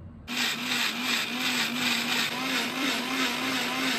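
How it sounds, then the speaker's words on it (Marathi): A mixer grinder starts abruptly and runs steadily with a loud whirring motor drone and a pulsing hum throughout. "पण मी आता पटकन पहिले मिक्सर लावते"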